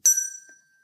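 A small bell rung once as a signal gives a single bright, clear ding with a sustained tone that rings out and decays over about half a second, heard alone.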